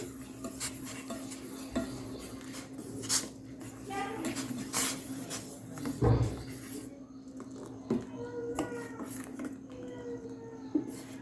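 A spoon scrapes and clinks against a metal pan in irregular strokes, stirring biscuit into tea, while a low hum runs steadily underneath.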